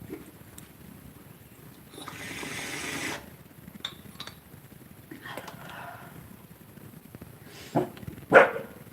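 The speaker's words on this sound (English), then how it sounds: "Why are you barking?" A dog barking indoors at home, a few scattered barks at moderate distance with a sharper, louder burst near the end against quiet background.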